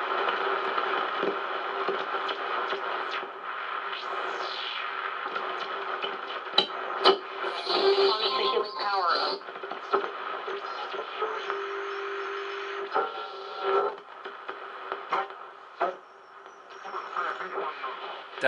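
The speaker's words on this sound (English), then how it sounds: "That sounds like it might be sideband." Single sideband radio signal tuned in on a Hammarlund HQ-100 shortwave receiver around the 20-meter band, garbled voice-like warble over steady hiss and static with occasional clicks and tuning sweeps, continuous and fairly loud.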